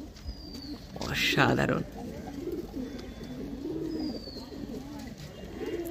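Andhra pigeon chick from a champion racing line cooing in low, repeated warbling phrases, close by, while a person speaks briefly over it.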